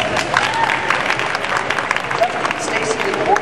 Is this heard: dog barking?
no